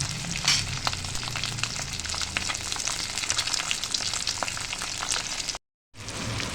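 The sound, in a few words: lightly frying halved duck eggs in a pan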